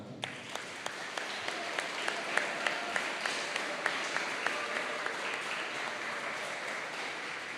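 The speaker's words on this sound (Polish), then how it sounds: "proszę Was wszystkich jeszcze raz o docenienie ich oklaskami" An audience applauds at a school year-end ceremony at an electronics school, steady clapping throughout with a few sharp, distinct claps standing out near the microphone.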